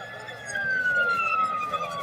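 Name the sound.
police siren sound effect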